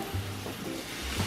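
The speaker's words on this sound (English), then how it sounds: "So I'm doing a little scraping." A utensil scrapes the bottom of a pan of adobo in a few short strokes over a steady sizzle, close by, with no talking.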